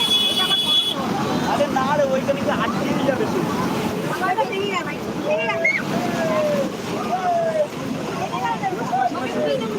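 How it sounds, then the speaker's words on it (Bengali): Sea waves surge at Digha beach as the tide rises during Cyclone Remal, a continuous loud roar with strong wind buffeting the microphone, while a voice talks over it. "দেখো জলটা আস্তে আস্তে জোয়ারটা কোথায় চলে আসছে"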